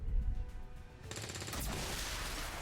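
A ranger's gunshot in the strategy game XCOM 2, a sudden loud crack of gunfire after a quieter stretch, followed by sustained noisy rumble.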